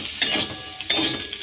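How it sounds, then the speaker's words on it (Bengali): Spatula stirring potatoes and pointed gourd frying in a pan, a couple of scraping strokes with a soft sizzle underneath, close and clear with no talking. "ঢাকাটা খুলে একটু খুন্তিয়ে করে নেড়ে দেব।"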